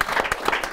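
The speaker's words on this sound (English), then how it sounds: "You get a little clap." A short burst of people clapping at a board game marathon, a handful of quick claps heard close under a noisy room, lasting under a second.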